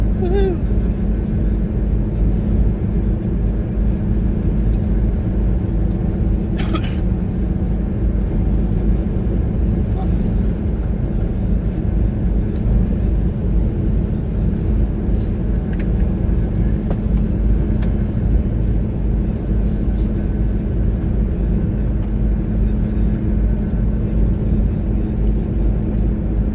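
Inside a moving car on the road, a steady low engine and tyre rumble drones evenly throughout, with no break or change in pace.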